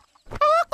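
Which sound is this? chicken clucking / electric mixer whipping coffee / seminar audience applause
chicken clucking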